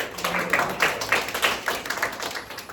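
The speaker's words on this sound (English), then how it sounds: "Can we give a round of applause for that?" A small group in a classroom claps for a few seconds, steady scattered applause that stays moderate in volume.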